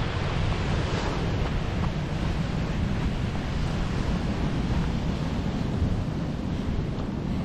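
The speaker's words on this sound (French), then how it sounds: "Ici, on a de beaux rouleaux. De quoi plaire aux surfeurs." Steady, roaring surf with big rolling waves breaking continuously nearby on a lava coast, a dense wash of water noise that never lets up, with a little wind mixed in.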